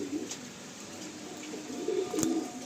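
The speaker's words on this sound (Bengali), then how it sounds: "বেশ ভালো ভালো পায়রা রয়েছে" Pigeons in a loft coo softly, a few short throaty calls near the start and a clearer pair toward the end, over a steady hiss of rainy background.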